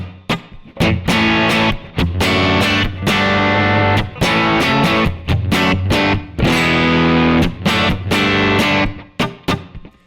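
Telecaster electric guitar played dry into a Kemper room preset, chords and short phrases with a spacious, roomy reverb tail, loud and close, notes separated by brief gaps.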